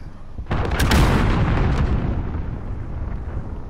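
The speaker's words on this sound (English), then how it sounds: "Enemy cruise missile incoming!" A cruise missile explodes in the video game Call of Duty: Modern Warfare, a loud, close blast that hits suddenly and then rolls into a long, fading rumble with no talk.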